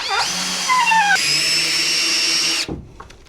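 A power drill drives strong screws into a greenhouse bench with a loud, close whine that shifts in pitch as the motor loads and then cuts off abruptly.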